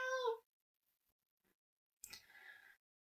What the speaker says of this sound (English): Oh, and there's a cat in here.